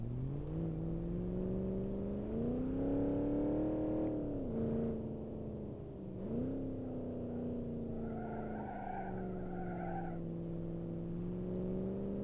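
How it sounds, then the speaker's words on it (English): A BMW engine in the driving game BeamNG.Drive, droning steadily and rising and falling in pitch as it revs and shifts, with a brief tyre-squeal-like tone near the end and no talking. "I love the sound of this car."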